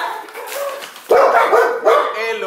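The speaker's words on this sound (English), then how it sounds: "That big ass dog." A big dog barks up close, with two loud, harsh bursts separated by a short pause and a quieter stretch before them.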